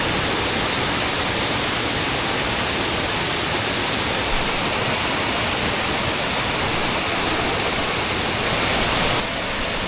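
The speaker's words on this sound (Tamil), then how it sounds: "மறையூர்லேருந்து கீழே வந்து ஒரு 1/2 கிலோமீட்டர் கீழே இறங்கினோடனே வந்து ஒரு சின்ன அருவி இருக்குது." A small waterfall, Karimutti Falls near Marayoor in Munnar, roars as a dense, steady rush of falling water, loud and close throughout.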